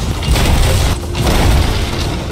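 Ship cannons firing during a naval battle in the Sea of Thieves video game, heard as loud, dense, rumbling booms that blur into continuous heavy noise with a few stronger bursts.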